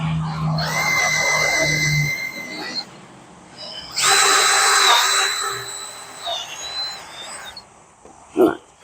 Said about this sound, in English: So I'm just going to drill if I can get it started.